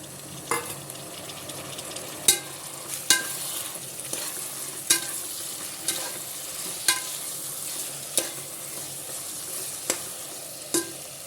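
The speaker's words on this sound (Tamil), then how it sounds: "இந்த ஸ்டேஜில் தக்காளியை போட்டு நல்லா வதக்கிக்கலாம்" Tomatoes sautéing in a pan for seeraga samba chicken biryani, with a steady low sizzle broken by about ten sharp scraping stirs at irregular intervals, close and clear with no talking.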